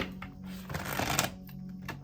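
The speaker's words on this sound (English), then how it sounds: "One more shuffle, guys." Tarot cards being shuffled softly by hand, a quiet rustle that swells into a brief riffle at the middle, close but faint over a steady low hum.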